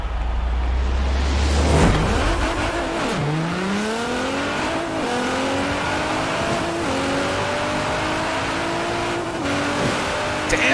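A Lamborghini Murcielago in Forza Horizon 4 screams through repeated rising revs and gear shifts, loud and close, with brief tire squeal near the start and no talk.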